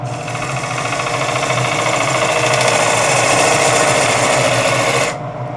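Spruce natural-edge bowl from a double-trunk log being scraped on a wood lathe, a steady continuous rasping whir with a constant motor hum that runs loud and close for about five seconds, then drops away abruptly near the end.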